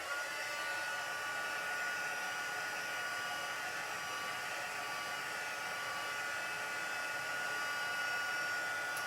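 A hair dryer blows continuously to dry a handmade Mother's Day card, a steady, even whooshing roar held close and unbroken with no talking.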